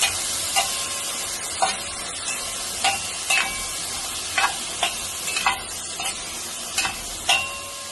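Tomatoes cook in a pan for fish pulao, a soft steady sizzle broken by repeated light scraping stirs of a spoon at irregular intervals, fairly faint and without talk.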